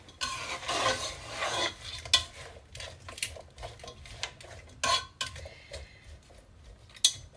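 Green peas being stirred and fried in a pan for matar pulao, giving soft scraping and rasping stirs with a few sharper utensil clinks against the pot, close and fairly quiet, with no talk.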